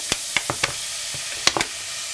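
Carrots sauté in oil for pea soup, a steady close sizzle with several quick scraping stirs and clicks of a utensil against the pan.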